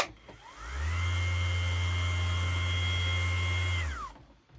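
MAXXT 150mm orbital sander cranked to a higher speed setting, a loud steady whirring hum that spins up, holds evenly for several seconds, then winds down, with no talking.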